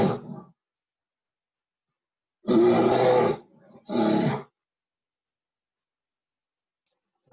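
A voice imitates a loud grizzly bear roar: one long, full-throated roar, then a shorter second roar after a brief gap, alone with silence on either side.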